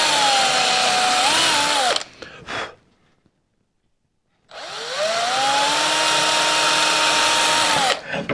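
A power drill fitted with a drill bit runs in two loud, close bursts of steady whining, with the pitch dipping and rising as the bit bites, separated by a short silent pause.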